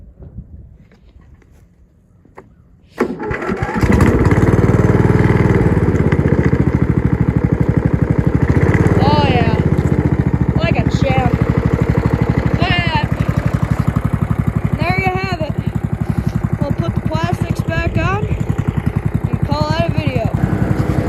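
Old MTD Yard Machines riding lawn mower, revived after sitting over five years, cranks and starts then runs with a loud, steady rough engine drone close by, a voice talking briefly over it.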